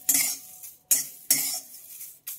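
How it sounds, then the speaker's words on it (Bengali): Neem leaves are stirred in a dry kadai with no oil, a spoon scraping across the pan in four distinct bursts of crackly rustling separated by short pauses. "আর দেখো এইদিকে আমি নিম পাতাটাকে একটু নেড়ে দিচ্ছি।"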